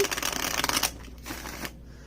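An oracle card deck being shuffled in rapid riffling bursts, a long dense flurry followed by a shorter, softer one, close and clear.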